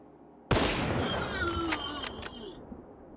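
A single loud M700 sniper rifle shot in S.T.A.L.K.E.R. 2 cracks sharply, followed by a ringing, fading tail with a few metallic clicks.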